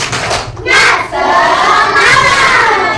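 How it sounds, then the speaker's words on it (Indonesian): Primary-school children in a classroom shout a rhythmic spirit chant together with claps, loud and close, the group voices rising in bursts over about three seconds. "kita tepuk semangat dulu yuk"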